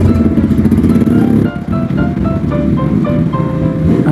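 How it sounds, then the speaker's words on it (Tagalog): A two-stroke motorcycle engine runs loud and close after starting, a rough continuous drone with a brief dip in revs partway through, no speech. "Pinaandar ko na ang 2 cycles natin."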